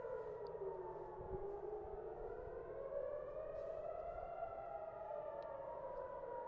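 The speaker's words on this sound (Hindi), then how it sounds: "टेल अवीव में हर तरफ से सायरन बज रही हैं," A civil defense siren wails in a long rising and falling tone, heard from a distance, steady and unbroken throughout.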